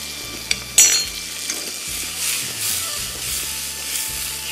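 Penne pasta is tossed in a hot pan with salt and crushed black pepper, making a close, continuous sizzling hiss with a sharp clatter early on and faint low rumbling underneath.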